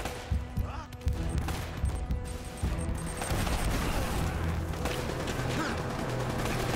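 Gunfire in a firefight in the video game Uncharted: Drake's Fortune, dense and continuous, with sharp bursts and booms over a busy mechanical din and a faint voice underneath.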